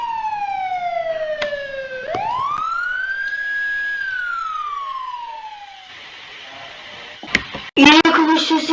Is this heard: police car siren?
yes